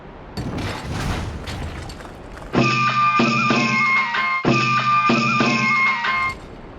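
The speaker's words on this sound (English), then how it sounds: "Previously, hunting horns made simple instrumental noises like so." Noisy rumbling for a couple of seconds, then a loud, steady harmonic tone from a Monster Hunter hunting horn, played in two sustained phrases with brief breaks.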